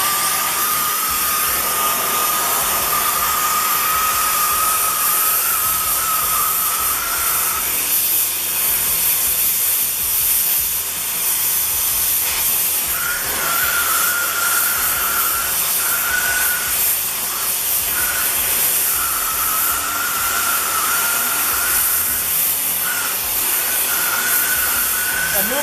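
A torch roars with a steady, loud hiss while heating a cheater pipe for bending, continuous throughout with slight tonal shifts as the flame is adjusted.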